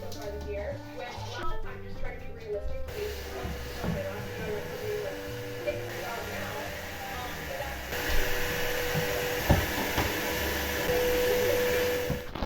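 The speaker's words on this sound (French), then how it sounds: "j'ai tout passé l'aspirateur" A vacuum cleaner runs steadily through a home cleaning session, a continuous broadband whir that grows louder in the second half, with some talk and household noise over the start.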